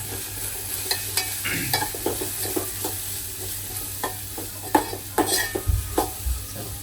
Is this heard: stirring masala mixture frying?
yes